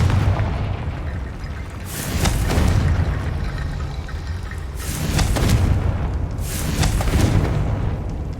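Repeated blasting-spell explosions in the Hogwarts Legacy video game, three heavy booming bursts with rumbling tails spaced a few seconds apart over a constant low ambient drone, no talk.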